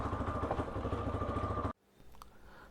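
A Karizma motorcycle engine idles with a steady, throbbing rumble, then cuts off abruptly, leaving faint background noise.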